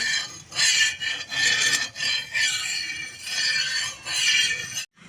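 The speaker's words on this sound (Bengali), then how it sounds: "আমি দিয়ে দেব সাদা তেল তেলটাকে তাওয়াটাকে মাখিয়ে নেব" Rhythmic scraping rasps of white oil being spread over a tawa griddle, repeated rubbing strokes close up, each a bright scratchy swipe, ending abruptly.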